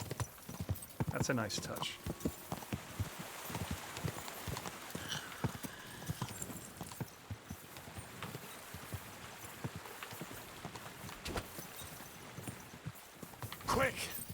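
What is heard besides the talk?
horse hooves clip-clopping in Kingdom Come: Deliverance II video game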